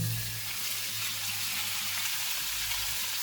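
Five hundred grams of beef mince hits hot oil in a pan and sizzles in a continuous, bright, crackling hiss, close and steady, with no talking.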